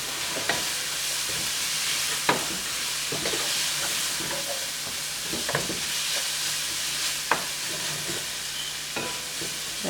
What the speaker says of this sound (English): Let that saute for maybe a minute and a half to raise up the fire just a little bit.